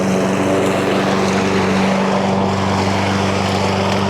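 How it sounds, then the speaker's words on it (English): A lawn mower runs steadily nearby as a lawn is mowed, its constant engine drone loud and unbroken throughout with no talking. "mowing his lawn"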